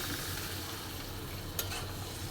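Curry sautéed and stirred in a pan gives a dense, even sizzle with one sharp scrape or clink near the middle, close and steady throughout.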